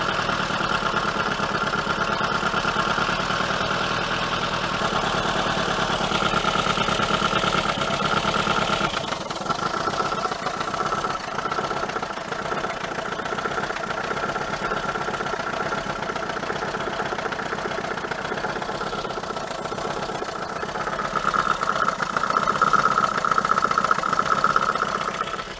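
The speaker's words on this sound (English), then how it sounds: "It'll run whenever I choke it" A choked 1980 Dodge Colt Challenger engine runs roughly and unevenly at close range, a steady loud mid-pitched drone that surges, dips and then picks up again, with no talk over it.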